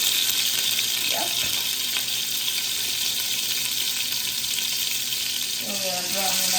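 Oxtail browning in hot oil for a Jamaican oxtail dish, a steady dense sizzle and spatter filling the whole stretch, loud and close, with a brief faint voice near the start and a clink of movement near the end.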